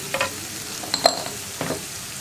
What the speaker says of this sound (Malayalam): ഇനി സവോള ഒന്ന് ലൈറ്റായിട്ടൊന്ന് ബ്രൗൺ കളറായി വരുന്നത് വരെ ഇളക്കി കൊടുക്കുക.